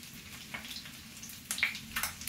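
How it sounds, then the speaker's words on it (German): Chicken thighs, breaded KFC-style, sizzle in a pan at moderate volume as they fry, with a few sharper spattering crackles standing out toward the end. "jetzt wende ich meine Hähnchen. Wir müssen auf 4 Seiten braten."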